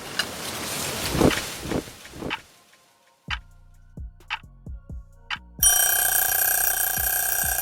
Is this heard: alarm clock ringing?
yes